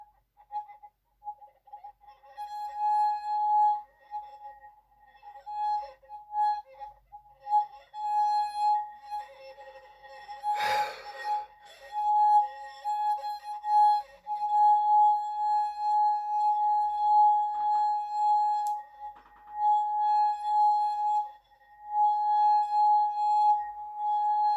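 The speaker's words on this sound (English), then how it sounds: "It goes something like this echolocation you hear." A movie sound effect for a vampire's echolocation plays as a sustained, whistling tone with glassy overtones, swelling and fading, with one sharp burst near the middle.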